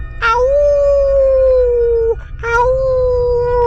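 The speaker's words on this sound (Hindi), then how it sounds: "तभी घर के बाहर कुत्ते भौंकने लगते हैं।" Outside a house at night, a dog gives two long, drawn-out howls, loud and near, with a brief break between them and no talk.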